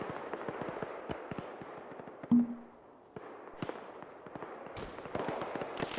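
Mortar fire in the Arma 3 combat game: a series of distant thuds and cracks with scattered sharp pops, one stronger blast midway, over a steady low rumble.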